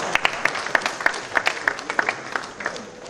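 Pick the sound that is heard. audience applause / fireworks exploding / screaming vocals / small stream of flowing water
audience applause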